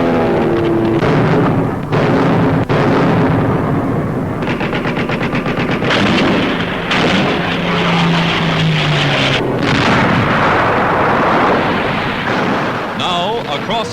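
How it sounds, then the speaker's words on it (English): Heavy gunfire and booming artillery pound a Nazi-held naval base across Lake Bizerte in a 1943 wartime newsreel, loud and continuous with rattling bursts and deep blasts, under a narrator's voice. "U.S. artillery reduces the Nazi-held naval base."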